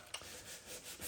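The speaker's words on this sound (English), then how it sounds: "I'll just fold that sandpaper over and sand down in all the tight little grooves" Folded sandpaper rubbed by hand over cured epoxy in tight grooves, a soft continuous scratchy rasp with faint back-and-forth strokes, close and quiet, no voices.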